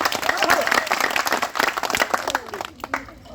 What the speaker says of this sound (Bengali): তার জন্য করতালি হবে, করতালি